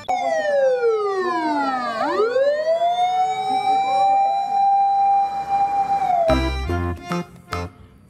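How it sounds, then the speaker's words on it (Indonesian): A loud wailing ambulance siren sweeps up and down in pitch, sustained and close, then cuts off into a few rumbling thumps near the end. "lihat teman-teman, ada mobil ambulan."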